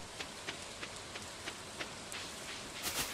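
Steady rain from the video game Stardew Valley, a soft continuous patter with faint regular ticks of drops, quiet and alone, swelling slightly at the end.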